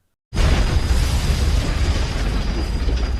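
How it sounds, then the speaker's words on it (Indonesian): Film sound of the villains' car being hit by a train and exploding, a sudden loud boom after brief silence that rolls on as a dense, roaring blast with no talk. "mobil para penjahat yang mencoba mengejarnya pun tertabrak oleh kereta api dan kemudian meledak"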